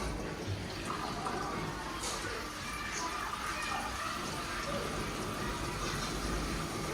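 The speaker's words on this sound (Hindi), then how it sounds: "देखो फ्रेंड्स, पिंक कलर का बलून भरा रहा है पानी का।" Water runs into a pink balloon as it fills, making a faint, steady trickling hiss that stays fairly even throughout.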